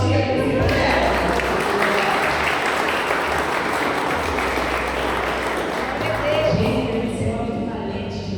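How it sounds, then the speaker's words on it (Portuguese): A church congregation applauds in one loud, dense and steady wash of clapping that lasts throughout, with crowd murmur and voices mixed in beneath it. "Eu vou aplaudir a igreja dela."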